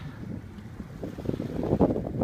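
Strong wind buffets the microphone with a low rumble and gusts that build toward the end, with water and sailboat noise underneath while sailing.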